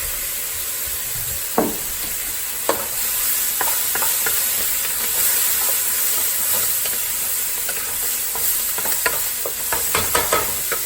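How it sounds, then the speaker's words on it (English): Seafood boil sauce with a little ponzu added, sizzling steadily in a pot while a utensil stirs it, giving scattered scrapes and clacks that grow busier near the end, close and loud. "we're going to go ahead and stir that up"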